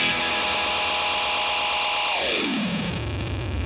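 Benson tape delay pedal with feedback at maximum, self-oscillating into a dense, distorted wash of noise whose pitch sweeps downward near the end, loud and continuous with no voices.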